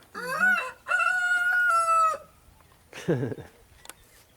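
A rooster crows loudly nearby at Washington on the Brazos State Park, Texas, a long drawn-out call, followed after a pause by a shorter rough cluck or crow.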